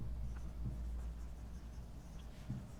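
A pen writes notes by hand during a class-12 physics lesson on cells, EMF and internal resistance, giving a faint, steady scratching with a few slightly firmer strokes and no talking.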